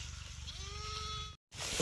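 A sheep from a village flock bleats once, a clear drawn-out call close by over a low rumbling background, followed by a brief cut to silence.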